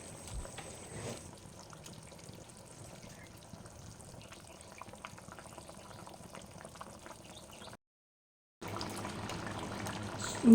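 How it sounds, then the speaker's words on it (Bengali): Hot water pours into a simmering Bengali fish curry of snakehead fish, a steady bubbling, gurgling liquid sound close by that cuts out briefly and then resumes. "এবার আগে থেকে করে রাখা গরম জল ঢেলে দেব"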